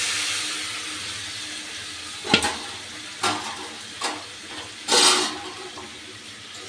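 Marinated chicken goes into a pan of frying spice mix, giving a steady soft sizzle broken by several sharp bursts of hissing and scraping stirs, close and without voices.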